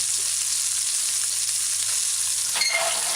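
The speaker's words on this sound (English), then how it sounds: "you want to allow the patty to fry on one side properly before you flip it" A fish patty fries in a pan with a steady close sizzle and crackle and a faint low hum beneath, ending in a brief scrape or stir.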